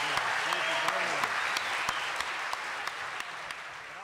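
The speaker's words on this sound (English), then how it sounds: "I'm just going to ask for another round of applause" Audience applauding steadily in a hall, many hands clapping as a continuous wash with a few sharper nearby claps standing out, while a voice speaks underneath.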